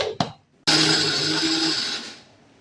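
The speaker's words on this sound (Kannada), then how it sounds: "ಅರ್ಧ ಅರ್ಧ ಹಾಕ್ಕೊಂಡು ಮಿಕ್ಸಿ ಮಾಡೋಣ" A mixer grinder grinds peanuts for a traditional sweet. There are a couple of quick clicks, then a loud whirring motor burst of about a second and a half that winds down to a stop.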